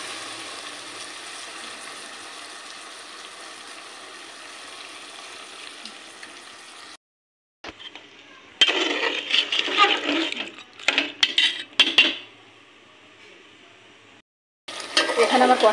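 Beef curry frying in a pot as water is poured in: a steady sizzle gives way after a brief gap to a louder burst of hissing, bubbling and stirring, then drops off before resuming.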